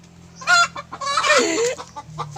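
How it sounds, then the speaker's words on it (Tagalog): Chickens cluck and squawk close by in a short, busy burst, with a low steady hum underneath. "huwag kayong maingay ng mga manok kayo ha"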